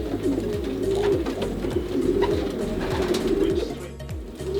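A 2005 racing pigeon cock coos repeatedly in low, rhythmic rolling calls, close and clear, with other birds faintly in the background and no talk.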